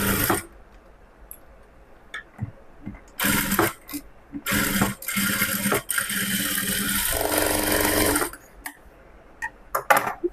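Domestic sewing machine stitching blouse fabric in bursts of rapid mechanical whirring and clatter, starting and stopping several times with brief pauses between runs, close and fairly loud.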